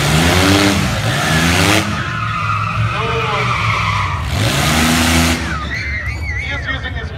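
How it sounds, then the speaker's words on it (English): A budget drag car does a loud burnout, its rear tires dragged through the burnout box with the parking brake used as a line lock. Engine roar and tire screech surge twice, and a commentator talks throughout. "He is using his parking brake as a line lock, dragging the rear tires through the burnout box."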